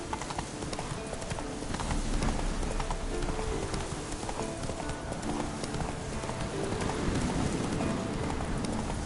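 Roach, a horse in a PS4 video game, gallops with a steady rapid clip-clop of hooves that runs loud and continuous throughout, with a brief whinny and some rain-like background texture.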